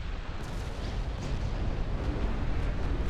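Warships launching torpedoes during a naval battle in the Ultimate Admiral: Dreadnoughts game, heard as a continuous deep rumbling wash of booms and blasts at an even, fairly loud level.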